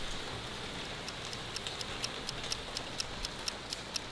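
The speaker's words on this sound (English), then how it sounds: "It just started raining a couple hours ago." Steady, dense rainfall hisses as a Category 4 hurricane hits Florida, with light wind. The wash of rain is constant and close, and faint regular ticks run through it.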